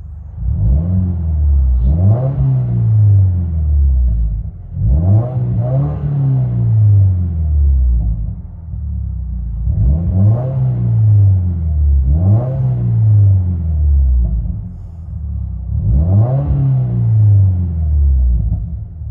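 Loud cabin view of a straight-piped 2021 Subaru WRX turbo, its exhaust rising and falling through four or five strong revving pulls, each climb followed by a drop back to a deep rumble, with no talk.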